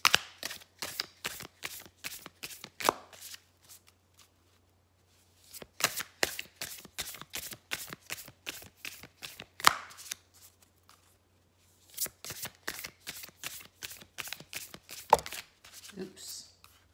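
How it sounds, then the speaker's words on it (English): Tarot and oracle cards being shuffled by hand: three bursts of rapid, crisp riffling flutters and slaps, close and distinct, separated by short pauses, with a voice speaking softly between them. "I will shuffle and pull one oracle card from each deck and six tarot cards."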